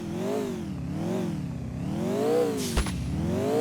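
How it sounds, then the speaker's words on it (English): A video game car engine, with sounds ported from GTA 4, revs and surges in waves, a steady mid-pitched growl rising and falling, with a brief sharp click near the end. "all car sounds are ported from GTA 4"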